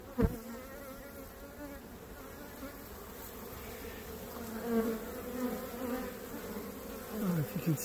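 Honeybees in a hive taken from a cutout hum in a continuous, fairly quiet drone, with a few louder individual bees passing close by.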